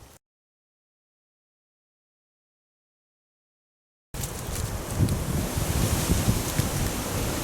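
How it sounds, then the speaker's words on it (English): Wind gusts roar outdoors at a winter overnight campsite, a loud broadband rush that starts abruptly after silence and keeps buffeting the microphone. "Wind's picking up."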